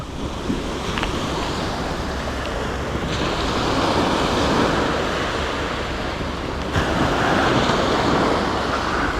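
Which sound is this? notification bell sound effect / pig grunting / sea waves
sea waves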